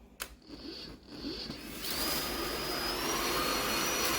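A Bosch Unlimited 7 ProHygienic Aqua cordless vacuum cleaner in eco mode, starting with a few bumps and then settling into a steady, moderately quiet whirring hum with a high whine that holds to the end.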